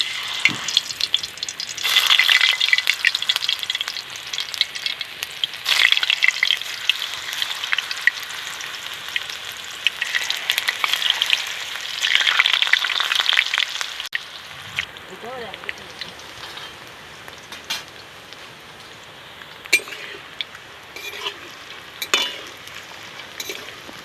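Raw banana slices fry in hot oil for chips, a bright crackling sizzle that swells and fades in waves for about fourteen seconds, then thins to faint scattered pops and clinks.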